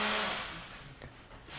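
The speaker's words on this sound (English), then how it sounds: "why is it every time you speak, the blender in the background starts speaking too?" A blender whirs in the background as a broad, steady hiss. The sound is loudest at the start, then eases off and hovers at a moderate level. There is no clear speech over it.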